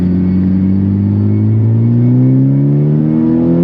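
A Honda Civic Type R on a Valet Mode tune accelerates on a sprinkling wet road, its engine note climbing smoothly and loudly as revs rise, with a deep rumble throughout.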